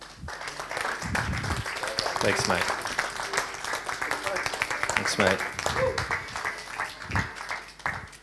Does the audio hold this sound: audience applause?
yes